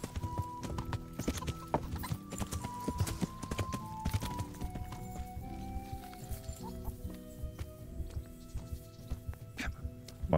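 Rhythmic horse hooves clip-clop steadily over the busy Kingdom Come: Deliverance game soundtrack with music, continuing throughout at a moderate pace.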